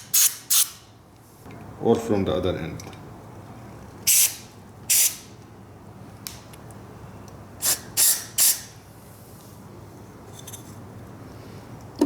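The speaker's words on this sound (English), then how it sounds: "I'm gonna come with the carb cleaner and spray it all clean." Carb cleaner sprays onto a Mikuni carburetor from a Yamaha Banshee in several short, sharp hissing bursts spread through the stretch, with someone speaking briefly between them.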